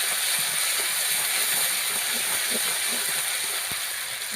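Ginger, cumin and chili paste going into hot oil in a home kitchen pan, giving a steady, close, broadband sizzle and hiss that holds evenly throughout with a few small pops and clicks.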